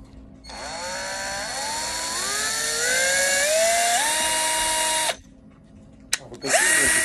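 Metabo cordless drill whirring alone, its pitch stepping upward in stages as power is raised by button, then cutting out briefly before spinning up again.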